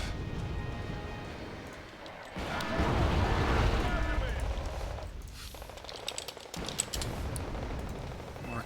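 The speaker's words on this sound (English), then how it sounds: "Mortar fire." Mortar fire in the battlefield strategy game Wargame Red Dragon: a heavy rumbling barrage of booms swells and fades, followed by sharper scattered blasts, with a voice talking over much of it.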